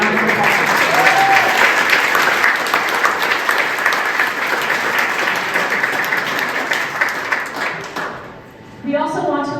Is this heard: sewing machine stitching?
no